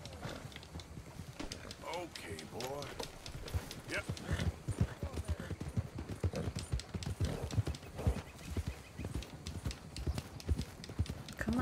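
Hooves clip-clop steadily at a trot with a horse neighing at times in the video game Red Dead Redemption 2, while people talk over the sounds.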